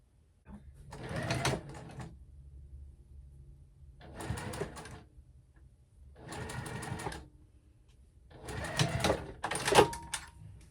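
A sewing machine top stitches a folded fabric strap for a clutch purse, running in four distinct bursts of rapid mechanical stitching separated by short quiet pauses, close and fairly loud.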